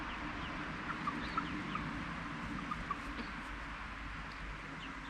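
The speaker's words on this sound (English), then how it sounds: "This is the finished small chicken pen," Cochin chickens in a small pen give soft, scattered clucks over a faint, steady background hum, quiet and somewhat distant with no talking.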